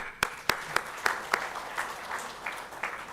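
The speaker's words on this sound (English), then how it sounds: "With a round of applause, please." Audience applause at the ICRISAT 50th anniversary celebration, with a few sharp individual claps standing out at first, then settling into a steady, moderate clapping from the crowd.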